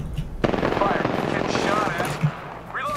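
Rapid gunfire from Apex Legends in a competitive battle royale match, dense bursts of shots with an abrupt loud crack near the start, overlapping game effects and voice chat throughout.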